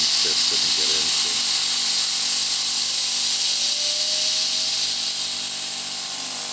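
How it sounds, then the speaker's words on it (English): Milling machine cutting gear spokes with a 1/8-inch bit, a loud continuous high-pitched cutting whine with steady motor hum throughout, close up, with brief faint talk at the start. "the 1/8-inch bit is smaller, so I'm now able to get into the corners that the larger quarter-inch bit couldn't get into"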